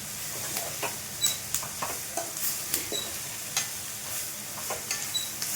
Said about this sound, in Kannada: ಈ ಥರ ಚೆನ್ನಾಗಿ ಎಲ್ಲ ಮಿಕ್ಸ್ ಮಾಡ್ಕೋಬೇಕು